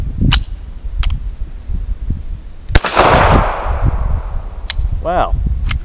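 A Stallard Arms JS 9mm pistol fires until empty, with several sharp, loud, widely spaced gunshots and one followed by a noisy echoing burst, over outdoor background noise with no clear talk.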